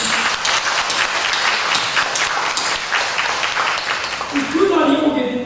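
Applause from a church congregation at a Sunday service, a broad wash of clapping that carries for several seconds before a voice begins speaking near the end.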